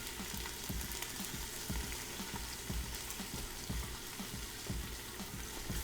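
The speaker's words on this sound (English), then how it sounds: "So now we're going to add them into the bacon grease and the onion." Chopped cabbage frying in bacon grease with onion and margarine, giving a dense, continuous crackling sizzle heard close and steady throughout with no talk.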